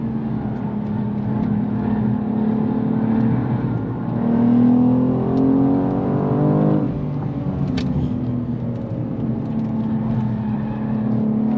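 A 2023 BMW M2 G87 engine droning steadily from inside the car, rising in pitch as it pulls, then a quick shift and drop before it settles back to a steady hum.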